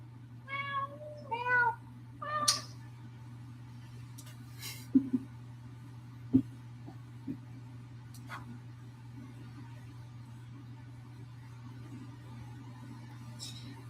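A cat meows several times in short, rising and falling calls close by in a quiet room, with a few soft bumps and a low steady hum underneath.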